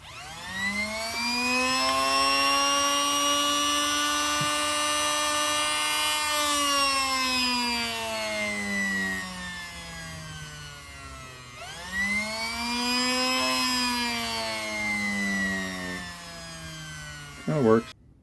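An electric motor run through an Arduino-controlled motor controller by a small throttle whines loudly, its pitch rising steadily, sagging, then climbing again in a second run before cutting off abruptly.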